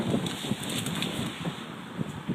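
Outdoor wind blows and buffets steadily against a microphone in a low, rumbling rush, with no speech heard over it.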